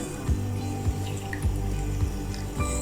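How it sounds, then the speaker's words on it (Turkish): Vinegar is poured into a small jar of gherkins and sugar, making soft, rhythmic glugging splashes, about five in a row, close and fairly quiet. "Üzerine de birer çay bardağı sirke ilave edeceğim."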